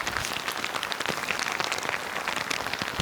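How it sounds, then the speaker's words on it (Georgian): Heavy rain pours steadily in a mountain village in Racha, Georgia, a dense, loud, continuous hiss of drops drumming on surfaces with no talk over it. "მაგარი წვიმა რა, მაგარი."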